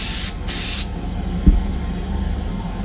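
An Iwata airbrush sprays base coat onto Greek style vases in two short, loud hissing bursts with a brief gap between, followed by a small knock and quiet room noise.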